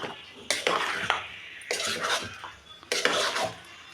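A spoon stirs lentils into bottle gourd curry in a metal pot, giving three separate bursts of scraping and clinking, close and fairly loud, with quiet pauses between them.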